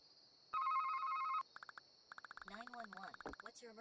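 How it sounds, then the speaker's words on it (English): An old rotary phone rings in a Roblox shop game, a loud steady electronic bell burst for about a second, followed by short repeated ring pulses and then overlapping game voices. "Let's use the old rotary phone right here."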